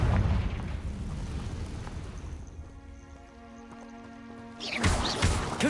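Confringo explosion spell in the Hogwarts Legacy game, a loud fiery blast that opens the clip and fades into crackling rumble, then a second burst near the end.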